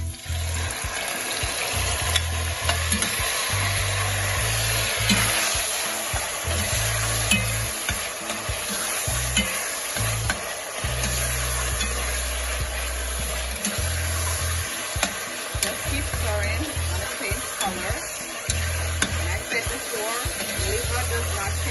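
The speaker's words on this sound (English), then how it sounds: "I'm gonna go ahead and add my liver, and I'm gonna be stirring it as soon as I put it in." Liver sautéing and sizzling in a pan while it is stirred for a Jamaican liver dish, a steady loud fry with scraping stir strokes throughout, and a low hum underneath.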